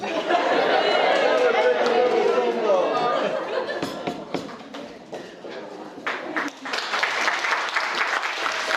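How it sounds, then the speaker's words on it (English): Wedding guests applaud loudly after a toast to the newlyweds, a dense, steady wash of clapping mixed with crowd chatter, dipping briefly midway before swelling again. "let's give Joe another big round of applause"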